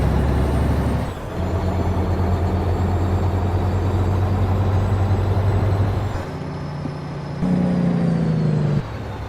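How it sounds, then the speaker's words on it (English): A loud semi-truck engine rumbles steadily, then the rapid staccato chatter of a Jake brake sounds briefly near the end, all from a video game. "there's that Jake brake."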